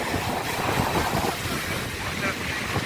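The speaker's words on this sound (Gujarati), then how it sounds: "આ દરિયામાં આટલું પાણી આવે છે ઉપર સુધી" Sea waves wash against the shore at Bhadkeshwar Mahadev temple in Dwarka, a steady broadband surf roar mixed with wind buffeting the microphone, continuous and fairly loud throughout.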